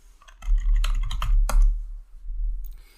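Clicky keystrokes on a computer keyboard, a rapid irregular run of taps that pauses briefly before a few more, close and fairly loud with no voices.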